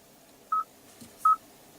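Two short electronic beeps from the integrated phone dial pad of a 2016 Kia Sorento infotainment system, spaced about a second apart, clear and close in a quiet car cabin.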